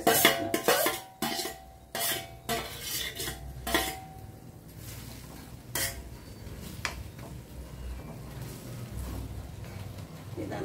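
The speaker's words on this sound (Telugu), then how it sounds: "దీనిలో మ్యాగీ వేసేసి కొత్తిమీర కూడా వేసేస్తున్నాను" Maggi noodles and coriander go into a cooking pan, with sharp metallic clinks and scrapes of a utensil against the pan, several quick knocks early on, then quieter stirring and rustling over a low background hum.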